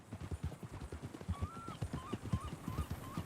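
Hooves of a horse clip-clopping at a walk in Red Dead Redemption 2, an even rhythmic series of hoof beats with a few short whinny-like calls partway through.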